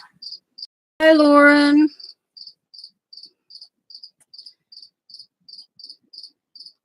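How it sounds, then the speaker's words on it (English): A cricket chirps loudly and steadily indoors in a quiet room, with short evenly spaced pulses repeating throughout; a brief greeting from a woman cuts in once near the start. "the cricket is like extra loud"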